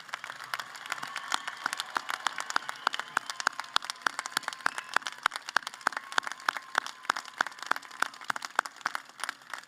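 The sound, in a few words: audience applause for graduating veterans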